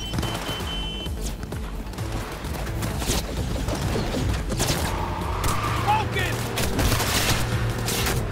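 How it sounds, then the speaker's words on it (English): Rapid bursts of gunfire in Cyberpunk 2077 crackle over a constant car engine roar, with sharp shots and impacts, including the car's back windows being shot out, scattered throughout and no clear speech. "Damn, they shot out my back windows."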